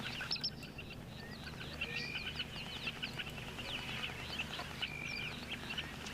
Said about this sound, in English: You can hear the guinea fowl off in the distance too.